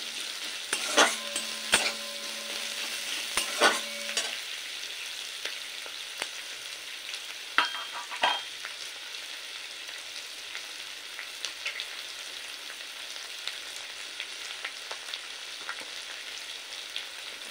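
Onions fry in oil until reddish for a tamarind potato and eggplant curry, a quiet steady sizzle broken by several sharp utensil clinks and stirring scrapes, with a ringing tone early on, no talk.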